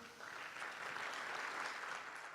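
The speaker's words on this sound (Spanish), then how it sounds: "Un aplauso para ellos." A crowd at a company awards ceremony claps steadily for a couple of seconds, a soft, even patter of applause heard from a distance.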